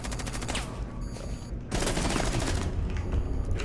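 Rapid automatic gunfire from the tactical shooter game Rainbow Six Siege rattles on without a break, close and loud, and grows denser and heavier partway through.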